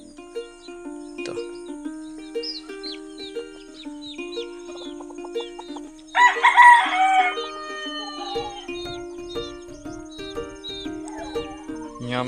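A chop suey hatch grey rooster crows loudly and close by at a backyard poultry farm, one long crow standing out amid repeated clucking and other fowl calls, with a steady low hum running underneath throughout.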